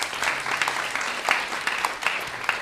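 An audience at a live temple gathering gives a round of applause, a steady wash of clapping hands heard from a moderate distance, even and sustained from start to finish.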